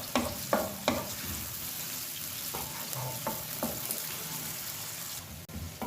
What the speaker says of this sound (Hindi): प्याज को करूँगी मैं लाइट ब्राउन।